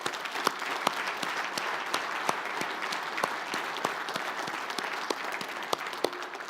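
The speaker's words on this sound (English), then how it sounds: "thank them for their service with a nice round of applause" Steady round of audience applause at an expo gathering honoring deceased directors, even and sustained clapping from a large crowd with scattered sharper claps, no voices over it.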